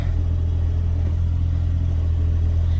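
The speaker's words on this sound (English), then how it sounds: "It actually idles really good" A small Japanese kei car engine idling at an auction, a steady, close, low rumbling drone held without change.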